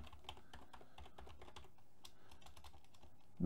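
Steady, rapid typing on a computer keyboard, close and clear with irregular key clicks throughout, no voices, and a brief louder thump right at the end.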